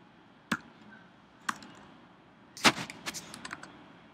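Typing on a computer keyboard while entering HTML text: a couple of isolated key presses, then a short cluster of quick, close clicks, quiet and alone.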